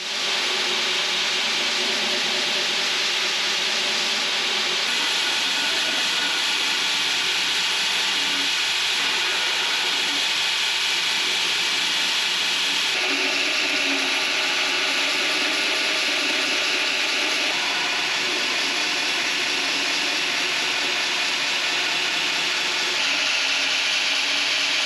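A knife handle made of Richlite is profiled against the flat platen of a belt grinder, a loud continuous abrasive hiss and whine holding steady for the whole stretch with slight shifts in pressure.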